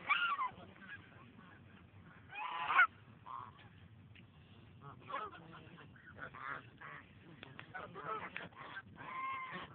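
A flock of geese honks repeatedly nearby in irregular bursts, with some louder calls rising over the chatter.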